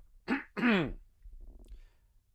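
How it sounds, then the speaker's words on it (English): A person clears their throat with two quick, raspy vocal bursts close to the microphone, followed by faint quiet. "Let me clear my throat."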